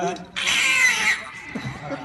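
A voice imitates a meowing Siamese cat, with one drawn-out, strained, nasal yowl lasting under a second, framed by brief bits of talk before and after.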